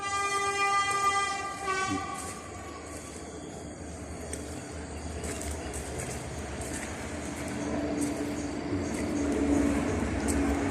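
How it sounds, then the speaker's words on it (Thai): A train horn blares loudly for about two seconds, then the rumble of a passing train continues with rhythmic rail clatter. "เสียงแตรปูดปูดปูด"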